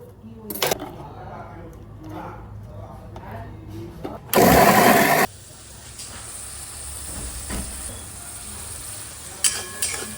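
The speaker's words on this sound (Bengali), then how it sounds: "গরম তেলে জিরে ফোড়ন দিয়ে আদা আর টমেটো লঙ্কার পেস্টটা দিয়ে দিয়েছি" Cumin, ginger and a tomato-chili paste hit hot oil in a Bengali home kitchen, giving a single loud, sudden sizzling burst that lasts about a second before settling back into quiet background sounds.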